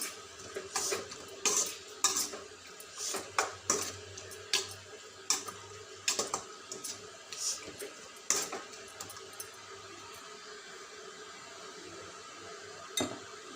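Boiled green peas tipped into a simmering kurma and stirred in a pot, giving irregular scraping and knocking clicks of a spoon against metal over a faint bubbling background, close and moderately loud with no talking.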